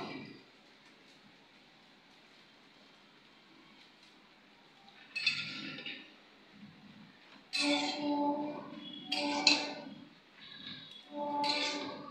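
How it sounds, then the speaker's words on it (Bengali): Fish chorchori, rohu cooked in its own oil, being stirred in a home cooking pan, with bursts of metal spoon scraping and clinking against the pan in several short clusters after a quiet start. "চচ্চড়িটা ভালো করে নেড়ে দিচ্ছি।"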